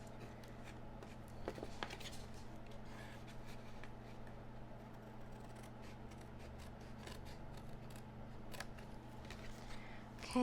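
Scissors cut card stock in a long run of small crisp snips and soft rasping strokes, close and quiet over a faint steady hum.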